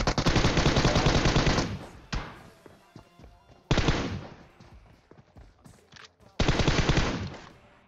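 Automatic gunfire in the video game PUBG Mobile comes in three long, loud bursts of rapid shots with quieter single cracks and thuds in the gaps between them.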